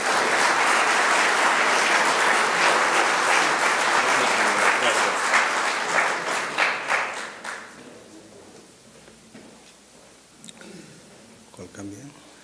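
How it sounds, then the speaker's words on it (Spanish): A hall audience at a conference on a southern Peru port project breaks into loud, sustained applause for a welcomed speaker, dense clapping that fades out over several seconds into quiet room noise with faint murmuring. "Démosle la bienvenida con un cordial aplauso."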